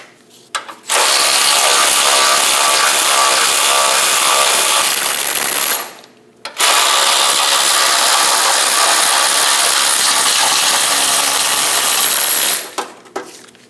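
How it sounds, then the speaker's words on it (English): A 21mm socket wrench working two bolts loose on a Chevrolet Express 2500 idler arm bracket: two loud, sustained whirring bursts, each several seconds long and separated by a brief pause, close to the microphone. "Using a 21mm socket, remove the two bolts. Break them free before you remove them."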